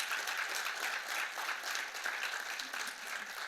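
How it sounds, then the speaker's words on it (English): Steady round of applause from the audience at a mayor's State of the City address in New Haven, a continuous, fairly distant and soft wash of many hands clapping. "a huge round of applause"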